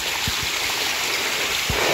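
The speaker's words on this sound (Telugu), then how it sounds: "చూడండి, మీకు నీళ్ళు చాలా బాగా పారుతున్నాయి." A fast stream rushes near a hidden waterfall above the Chitvel tunnel, a constant close wash of flowing water with a few soft thumps underneath.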